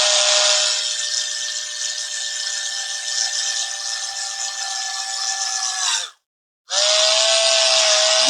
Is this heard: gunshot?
no